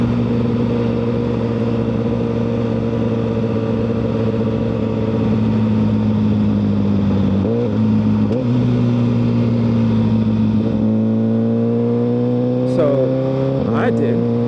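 A Suzuki GSX-R1000R motorcycle engine drones steadily and close, its pitch dipping and climbing as it accelerates through gear changes, with a sharper rev rise near the end.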